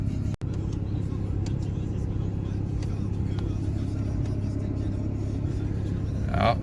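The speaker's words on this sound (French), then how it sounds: "je vais faire un petit démarrage en mode sport shifter paddle" A car pulls away from a standstill in sport mode using the steering-wheel shifter paddles. A steady, close engine rumble holds throughout, with a brief dropout near the start and a slight rise at the very end.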